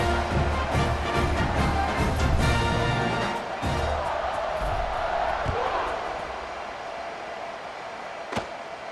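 Stadium crowd at a college football game between Oregon and NMSU, roaring in a broad, sustained wash of noise as the kickoff nears, with distant thuds and a commentator talking over it.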